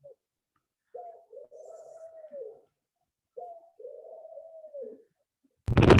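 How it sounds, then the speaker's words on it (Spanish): Pigeons coo in two drawn-out, rolling phrases separated by a pause, close and clear against a quiet background, followed by a brief burst of noise at the end. "Palomas,"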